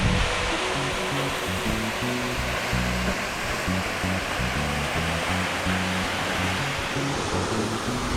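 Waterfall in a canyon near the Escalante River, a steady broadband rush of falling water heard up close and constant, with no voices.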